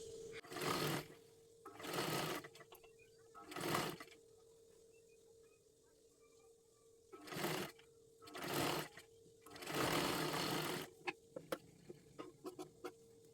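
A sewing machine stitches a dress being made from a Kathpadar sari, running in about six short bursts with quiet pauses between them, with a steady hum underneath.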